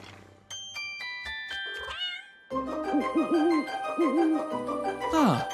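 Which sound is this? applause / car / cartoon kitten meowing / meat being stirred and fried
cartoon kitten meowing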